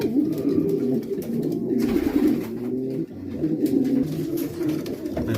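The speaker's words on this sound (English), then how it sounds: "He's a stocky pigeon as well." A stocky racing pigeon coos in a loft, repeated low throaty rolling coos in a steady rhythm, close and fairly loud, alone without speech.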